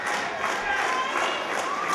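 Wrestling crowd at a Northern Impact Wrestling show, a steady dense roar of cheering and shouting filling the arena, continuous and loud throughout.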